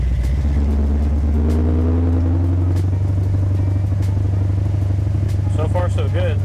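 Big-block 1972 Chevy Nova exhaust rumbling loud and steady while driving, a deep continuous drone with a brief rise in revs early on; a voice speaks briefly near the end.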